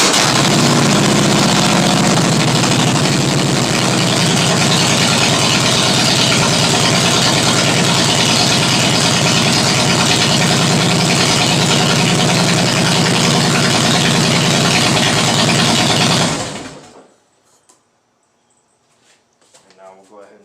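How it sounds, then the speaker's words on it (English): Harley Davidson Softail Heritage motorcycle engine running loud and close, a steady deep rumble for about sixteen seconds before cutting off abruptly into near silence. "Before we start the bike."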